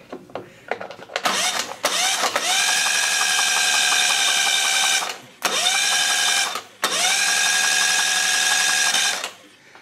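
An outboard motor's starter, jumped with pliers, cranks in three loud, whirring bursts of several seconds each, separated by short pauses, with no catch or start.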